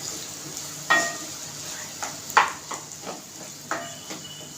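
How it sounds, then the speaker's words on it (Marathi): Potatoes sauté in a pan for an aloo palak dish on medium heat, with a soft steady sizzle broken by several sharp scraping stirs of a spoon against the metal. "बटाटा चांगला याच्यामध्ये परतून थोडं शिजवून घ्यायचं आहे"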